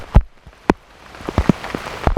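Rain patters outdoors at a field edge during a turkey hunt, with heavy drops striking nearby in irregular, sharp taps over a soft background of drizzle.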